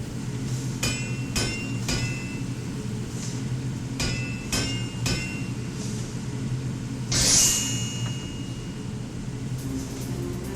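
Metal hammering at a forge in the Final Fantasy XIV video game: a few sharp ringing strikes spaced through the clip, then a brighter shimmering burst, over a steady low hum with no talk.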